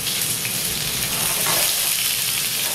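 Onions frying in a hot iron frying pan, a dense, loud, continuous sizzle and crackle heard up close without talk.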